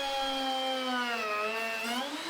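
A chainsaw roughing out wood for a table runs with a steady harmonic engine whine, its pitch sagging and lifting slightly, heard fairly quietly and alone.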